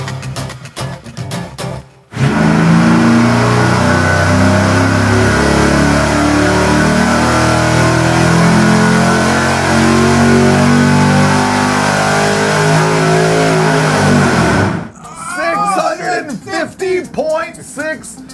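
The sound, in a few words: supercharged engine revving on a dyno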